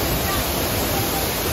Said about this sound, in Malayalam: മഴയുള്ളത് കൊണ്ട് തന്നെ നല്ല പവറിലാണ് വെള്ളം ഇങ്ങനെ വരുന്നത്